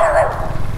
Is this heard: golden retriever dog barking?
yes